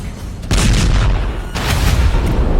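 Missile or drone interceptions over a US base in Kuwait: two heavy, booming blasts about a second apart, loud and rumbling with a long noisy tail.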